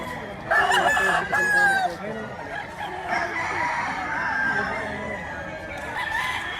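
A young gamecock stag at a rooster market in Batangas crows loudly and close by, one drawn-out call followed by further clucking and crowing, while someone talks in the background.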